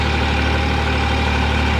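A Massey 9500 Smart Series tractor runs with a super seeder attached, its engine droning steadily and loudly at constant revs, close and alone.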